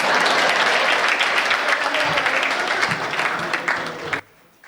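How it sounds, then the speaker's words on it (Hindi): A live audience at a Hindi comedy show featuring humorous songs about politicians breaks into dense, sustained applause, loud and steady for about four seconds before cutting off abruptly into near silence. "आप अगर चाहें तो अपने सम्मान में ताली बजा सकते हैं"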